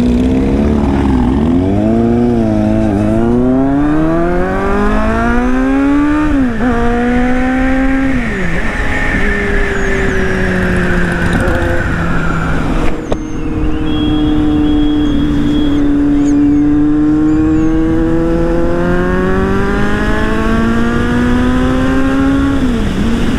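A group of superbikes rides together on the road between Jammu and Katra, engines droning loudly and steadily, with pitch rising and falling through gear changes and revs as the machines pass close by. No one speaks.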